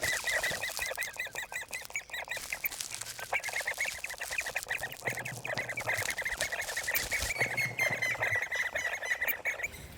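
Great spotted woodpeckers at a nest in the trunk of a large maple tree in a palace garden, giving repeated sharp, squawking calls in quick rhythmic bursts, loud and close, with no talk.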